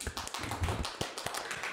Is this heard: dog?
no